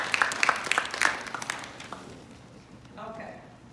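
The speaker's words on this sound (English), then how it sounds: "give yourselves a round of applause" A presentation audience gives a short round of applause, scattered claps close at first and then fading into room murmur, with a voice speaking near the end.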